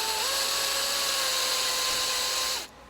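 A toffee wheel on a power drill strips adhesive from the rear of a G82 BMW M4, a steady, loud, high whine that runs without a break and then cuts off abruptly.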